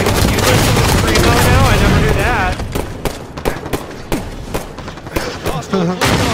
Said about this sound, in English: Sniper fire, move